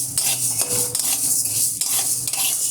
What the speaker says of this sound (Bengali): দেখুন, আমি ডালটাকে ভেজে নিচ্ছি।